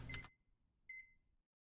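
Two short electronic microwave beeps in Friday the 13th: The Game, the first louder and the second a thinner tone, then quiet.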